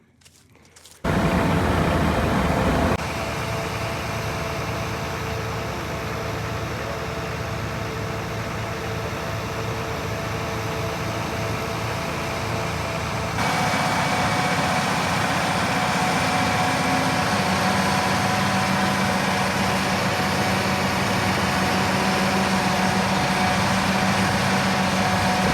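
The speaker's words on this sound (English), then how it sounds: "I'm gonna try to get the mini 306 cat to help pull and see if that works" A Cat 306 mini excavator engine runs steadily and loudly, pulling a stuck tractor during drain tiling work, with a constant droning hum that shifts slightly in pitch partway through and no talking over it.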